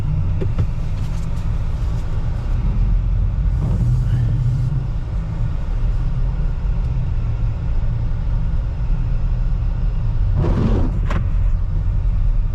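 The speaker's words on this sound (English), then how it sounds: "we're gonna be driving." A car driving on snowy roads gives a steady low engine and tire rumble heard from inside the cabin, with a few brief faint voice sounds rising over it.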